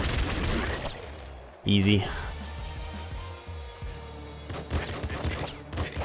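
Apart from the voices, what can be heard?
enemies shooting at once in video game Nuclear Throne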